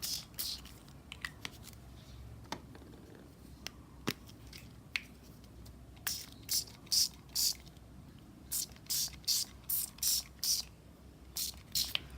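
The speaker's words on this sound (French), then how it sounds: "j'applique le spray avec la craie à l'intérieur" Spray paint hisses onto a gelli plate in a series of short, sharp bursts that come in quick rhythmic pairs and groups, close and loud, with faint clicks and handling noises between them.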